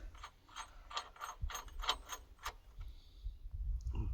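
A wrench tightening a bolt on an excavator track, heard as a quick run of close, sharp ratcheting clicks in bursts, then a pause and rustling handling noise.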